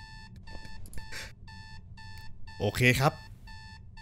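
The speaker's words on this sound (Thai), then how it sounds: "ตื่นมาพร้อมกับเสียงนาฬิกาปลุก" Alarm clock ringing in the game Is Simon There, a rapid repeating electronic beep in even bursts that runs throughout, with someone briefly speaking over it near the end.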